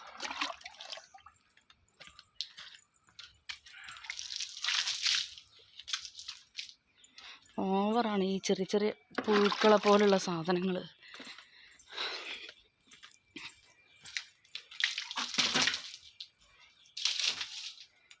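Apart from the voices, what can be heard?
splashing water to wash away small worms outside a house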